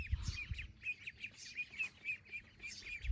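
Young wild ducklings, 32 days old, chirp in a steady series of short high peeps, close and fairly clear, with faint rustling beneath.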